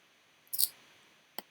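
Two faint computer mouse clicks, a sharp double-sounding click followed moments later by a second, softer single click, heard close and alone.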